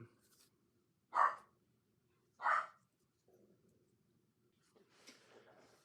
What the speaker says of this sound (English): so I keep getting distracted by the puppies we got at the house